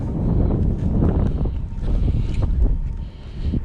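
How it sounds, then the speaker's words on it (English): Strong wind gusting outdoors near a boat on open water, a loud steady low roar buffeting the microphone throughout with rising and falling gusts and no voices. "I don't know if we'll even be able to hear that over the wind."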